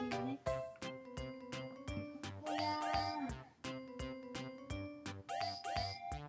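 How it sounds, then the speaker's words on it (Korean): A cat meowing repeatedly in a home setting, several drawn-out meows in a loose rhythm over a busy patterned background with faint jingling tones. "고양이에요."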